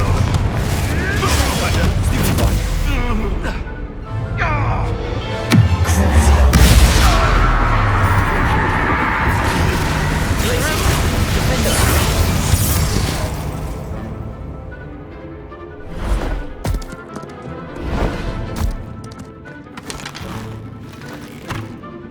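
Fiery Confringo blasts and spell impacts boom through a wand duel in Hogwarts Legacy, heavy explosions rumbling over game music, with a character shouting spell names amid the chaos.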